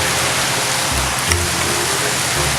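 Heavy rain from Typhoon Basyang pours down as a loud, unbroken wash of hiss with a low rumbling underneath.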